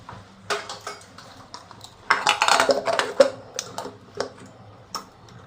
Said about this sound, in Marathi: कुकरला मी कवर करून प्रेशर यायला ठेवतो